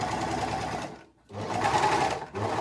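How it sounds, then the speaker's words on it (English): An overlocker runs across a fabric edge in two steady, close whirring bursts, with a brief pause between them and a short restart at the end. "Okay, so I'm going to use my overlocker."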